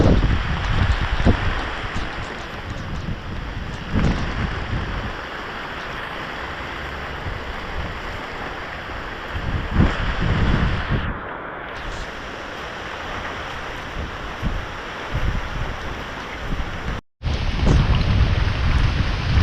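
Heavy rain pours steadily with low rumbles of thunder rolling through, a constant dense wash of sound with brief swells.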